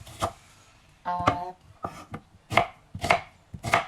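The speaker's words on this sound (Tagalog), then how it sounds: "hihiwain ko lang ito. Isang onion lang ang ilalagay natin" A knife slices an onion on a cutting board, several sharp irregular cuts close up, with no talking.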